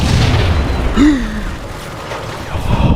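A thrown grenade explodes in Max Payne with a dull, muffled boom, followed by a brief whistling tone and a low rumbling tail.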